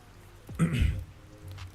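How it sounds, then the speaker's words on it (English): A recording of very light rain plays in the background of a live after-hours market update, a soft steady hiss of drops that stays faint throughout while a brief voice sound breaks in partway. "I have rain playing in the background. That's what you're hearing. It's like a very light rain."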